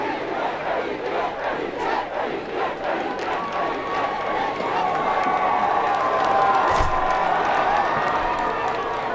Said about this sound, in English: now a little bit of a Bronx cheer from across the line